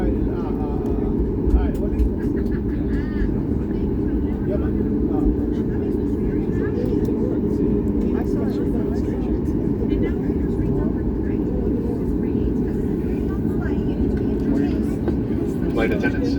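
Cabin of a Boeing 737 MAX 8 airliner before takeoff on a rainy day, a steady low engine and air-system hum filling the interior, constant and fairly loud with a voice making announcements over it.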